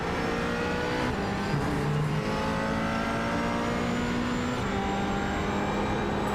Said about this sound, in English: That rumble start from 1 to 2 is just really loud.